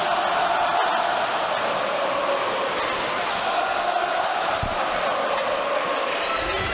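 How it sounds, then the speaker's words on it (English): A high school boys hockey crowd roars after a goal, dense sustained cheering filling an arena, with an announcer talking under it. "That'll fire the crowd up, Chris."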